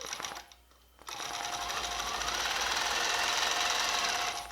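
A longarm quilting machine stitching fabric starts after a short pause with a fast, even mechanical chatter that holds steady and fairly close for several seconds.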